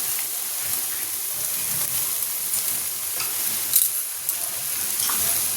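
Continuous bright sizzling of food frying in a pan as poppy seeds are sprinkled in, close and steady, with a few faint scrapes and clicks.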